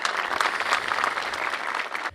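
Applause at a Macedonian Police Day ceremony, a crowd clapping briskly and steadily for about two seconds before it cuts off, close and evenly loud with no talk.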